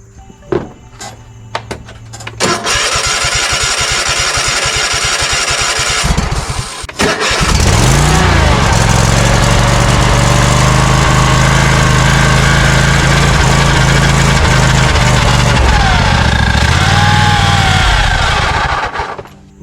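A Cub Cadet LT 1550 lawn tractor engine cranks over with rapid starter chugging, sputters, then catches and roars into a loud, steady close-up run that holds to the end.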